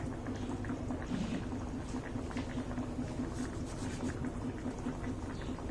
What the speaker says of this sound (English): Let the sabzi get boil for maybe 5 to 7 minutes